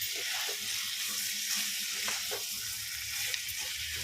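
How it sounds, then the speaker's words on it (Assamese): Banana flower frying in a wok, stirred with a steady close sizzle and a few soft scraping knocks of the utensil throughout. "আকৌ পুনৰ লৰাই দিলোঁ, কাৰণ কেৰাহীৰ তলত জ্বলিব পাৰে।"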